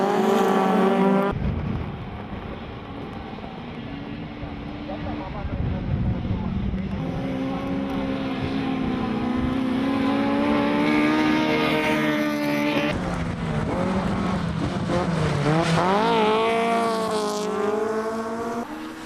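Race cars in SLH race 2 roar past loudly and continuously, their engines climbing and dropping in pitch as they rev through gears and corners, with no talk over the racket.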